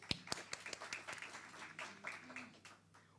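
A small audience clapping for an introduced parent, a scattered round of claps at moderate distance with faint voices in the background.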